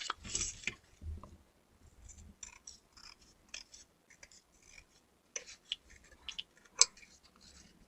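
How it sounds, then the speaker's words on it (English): Scissors trim extra paper with quiet, close snips and rustles, scattered irregularly, a few sharper clicks standing out from the soft paper sounds. "I'm just trimming off the extra paper so it can get a neat cover."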